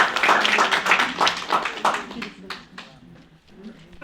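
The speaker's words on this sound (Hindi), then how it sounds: "तो ताली होनी चाहिए आप सभी के लिए" An audience at a training session in a Manali hotel bursts into clapping, a dense, uneven patter of many hands that gradually thins out, with voices talking over it.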